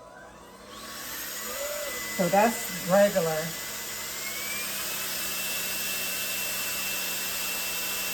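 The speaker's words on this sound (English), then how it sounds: "I'm coming to get my vacuum" Household vacuum cleaner starting up and running at a steady loud whine, briefly interrupted by a person talking early on, then droning alone.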